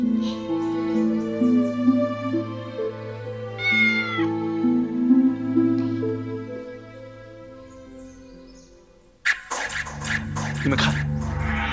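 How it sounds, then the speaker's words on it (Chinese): A small kitten meows softly a few times over sustained music in a costume drama, and a louder, sharper burst of sound comes in near the end. "你这只小猫太顽皮了吧，到处乱跑"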